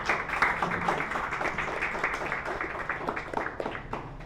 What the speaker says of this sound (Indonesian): Boleh tepuk tangan buat beliau.